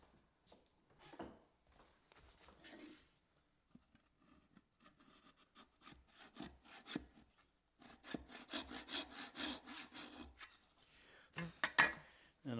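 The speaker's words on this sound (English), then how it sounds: "Should be using my cross cut." Hand crosscut saw cutting a small wooden tab off a workbench dog, rasping back-and-forth strokes that start sparse and faint, then grow louder and denser near the end, heard up close.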